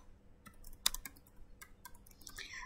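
Sparse keystrokes on a computer keyboard while a Cisco router command is entered, a handful of quiet clicks at uneven intervals with a louder key press near the start, in a quiet room.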